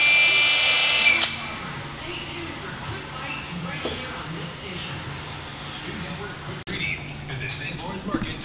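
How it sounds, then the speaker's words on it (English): A power tool whines loudly for about a second while a MAF sensor holder for an intake pipe is fabricated in a garage on dyno day. Afterward a quieter hum and clatter continue while people talk nearby. "Danny's fabbing it up over here, building a MAF sensor holder to go onto the intake pipe"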